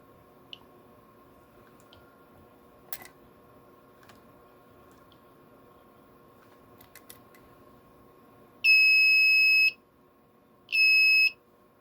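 Two loud, steady electronic beeps from a continuity tester during measurement, each lasting about a second with a short gap between, over a faint background hum and a few small clicks.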